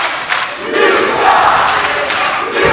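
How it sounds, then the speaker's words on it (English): Wrestling crowd at an indoor pro wrestling show in Sanford, Florida, cheering and shouting in a dense, sustained roar with swells of yelling, loud and close throughout. "Listen to this crowd."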